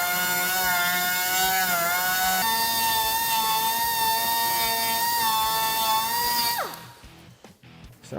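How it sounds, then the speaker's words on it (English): A Dremel rotary tool cuts a section out during a heavy-duty radiator install on a Polaris General UTV, giving a steady high-pitched whine that holds for several seconds, dips in pitch, then winds down and stops. "we're just going to take a Dremel and Dremel a little section out"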